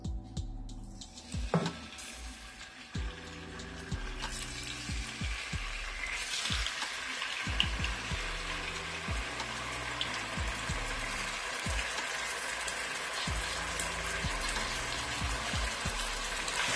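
Half a kilo of chicken frying in hot oil, a soft steady sizzle and crackle with scattered pops and a few louder clinks early on, quiet and continuous with no talk.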